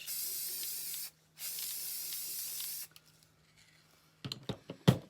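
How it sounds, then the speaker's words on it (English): An aerosol can sprays a Christmas ornament in two long hissing bursts with a short pause between, followed by quiet and a few sharp clicks and knocks. "you just take it and you shake it up and spray your ornament"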